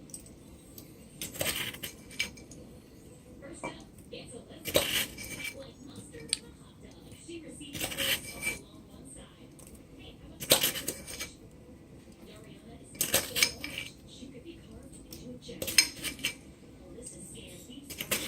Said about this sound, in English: now I'm gonna add 8 tablespoons of sugar